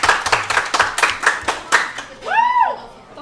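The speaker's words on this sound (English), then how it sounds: "Please give them a round of applause." Applause for a softball player and her head coach at a restaurant event: a small crowd claps briskly for about two seconds, then fades as a voice begins speaking over the tail.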